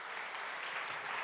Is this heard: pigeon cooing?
no